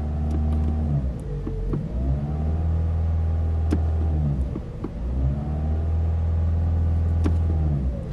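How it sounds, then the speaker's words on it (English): A car engine revs as the gas pedal is pressed, two smooth rises and falls in pitch over a steady idle rumble, close and fairly loud, with no talking. "Let me just press the gas pedal for a little bit."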